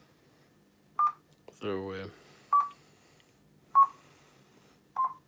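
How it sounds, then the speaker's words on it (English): ESP32 TTGO VGA32 board running TeleBASIC produces sine wave tones: four short, clean beeps at a steady pitch, spaced roughly a second apart. Someone says a single word between the first and second beeps. "It makes the sound is S0. It's a sine wave, and then the frequency is sent out."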